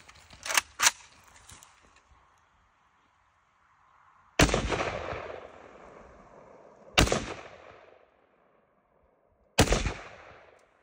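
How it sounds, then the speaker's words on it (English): Three loud, sharp AK-47 rifle shots from a MAK-90 fired without a stock crack out a few seconds apart, each followed by a long echoing decay outdoors, after two quick metallic clicks at the start; no voices are heard. "It took three shots, but I'm used to shooting without a stock"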